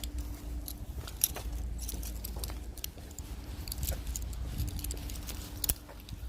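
Car keys for a driving-school vehicle jangle in short, bright metallic clinks, scattered unevenly over a low background rumble, with a couple of sharper rattles standing out.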